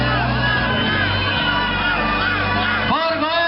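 A dense crowd of supporters roars and cheers continuously at the final of the Palio Pignarulars, loud and close, with shouts and whoops rising out of the steady din.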